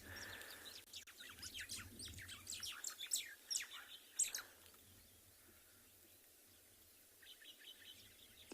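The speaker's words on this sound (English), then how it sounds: "very, very chirpy little white-browed sparrow weavers that have started this morning, and a couple of wattled starlings calling in the background" Chirpy white-browed sparrow weavers twitter in rapid bursts on a Kalahari morning, with wattled starlings calling more faintly in the background; the chatter is steady and fairly distant, fading after a few seconds before another short burst.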